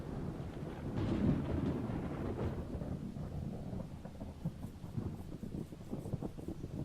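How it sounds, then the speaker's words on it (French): Deep, rolling thunder in the video game Project Zomboid rumbles continuously, heavy and loud at first, then fading into a lower, grumbling roll with faint crackles. "Le tonnerre, vous l'entendez,"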